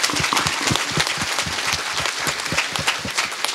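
A church congregation at Holy Mass in Chaibasa, Jharkhand bursts into sustained applause, dense overlapping claps filling the room steadily and loudly throughout with no voices above them.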